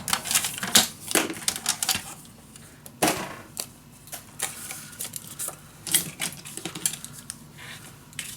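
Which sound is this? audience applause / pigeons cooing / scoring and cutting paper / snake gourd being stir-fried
scoring and cutting paper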